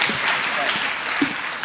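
Audience clapping at a Hindi poetry recital, a brief burst of applause from a gathered crowd that is loud and close, with some voices mixed in underneath.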